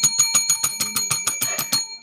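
A small bell is rung rapidly and repeatedly, about a dozen bright, ringing dings in quick rhythm, loud and close, during a live sales stream for sunscreen.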